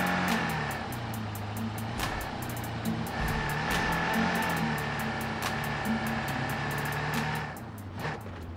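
Car engine from the PUBG Mobile video game, a teammate driving a vehicle around buildings and apparently trying to reach a rooftop; a steady revving motor holds throughout with shifting pitch under rhythmic game interface ticks.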